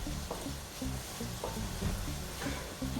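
Red onions and whole cloves sautéing in a pan, a steady close sizzle with repeated stirring scrapes throughout, no voices.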